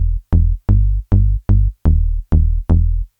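A house music bass line using a major seventh plays alone as eight clean, punchy notes in an even rhythm, each decaying quickly before the next.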